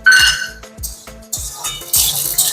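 A metal spatula stirs onions, garlic and green chilli in a pan, giving a quick series of scraping clanks and clinks against the metal, close and clear with no talk.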